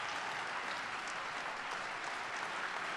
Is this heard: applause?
yes